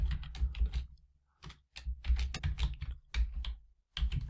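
Quick bursts of typing on a computer keyboard while writing Python code, clicky keystrokes coming in clustered runs separated by short pauses, close and moderately quiet.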